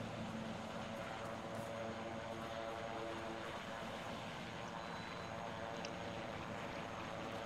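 A helicopter in the Arma 3 video game drones steadily at moderate loudness throughout, a continuous engine and rotor rumble with no break.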